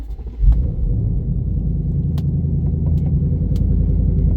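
An S650 Mustang fires up from a cold start with a sudden loud bark, then settles into a deep, steady idle rumble that fills the rest of the moment, close by and without talk.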